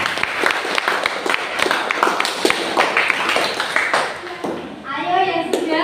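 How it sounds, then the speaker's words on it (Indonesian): Audience applause after a classroom presentation: steady dense clapping from many hands fills the room throughout, with a voice speaking briefly near the end. "Kalau tidak ada, mari kita beri aplaus."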